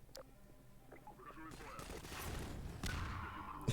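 Gunfire in the video game Half-Life 2, a dense burst of shots building after a quiet start and continuing to the end, with other game effects mixed in.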